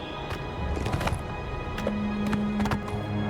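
A horse's hooves clip-clop at a run in the video game Oblivion Remastered, a quick steady patter of hoofbeats with a brief whinny-like tone, moderate and without talk.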